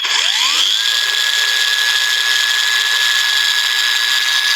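A SKIL PWRCore 20V cordless angle grinder spins up from a low whine to a steady, loud, high-pitched running hum that holds constant with no talking over it.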